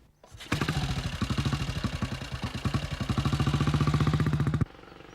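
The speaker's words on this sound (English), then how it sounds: "when it really barks and cracks out of the exhaust" A motorcycle engine revs up with a rapid, throbbing exhaust rhythm, close and loud, building over several seconds before cutting off abruptly.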